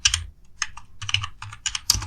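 Close, crisp keystrokes on a computer keyboard while typing HTML code, arriving in quick irregular clusters with short gaps between them.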